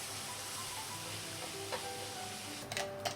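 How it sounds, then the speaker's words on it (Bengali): Garlic with ginger-chili paste frying in butter and oil, a soft, steady low hiss in the background with a few light clinks of a utensil toward the end, no voices. "এটা একটুখানি ভালো করে ফ্রাই করে নিই।"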